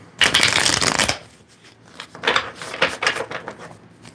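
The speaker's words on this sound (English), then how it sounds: "shuffle, shuffle." Two tarot decks riffle-shuffled together: a loud, dense burst of rapid card flutter for about a second, then a pause and a second, looser run of papery snaps and slides, close up with no talking.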